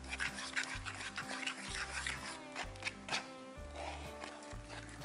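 Egg being mixed by hand into room-temperature milk with dissolved yeast for sweet rose-cake dough, rhythmic scraping and rubbing strokes of a utensil against the bowl repeating about once a second, with no talk.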